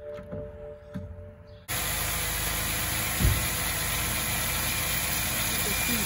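Car engine on a friend's vehicle with a smoking battery cranking over and catching, then a steady loud idle with a rough hum that runs on without pause.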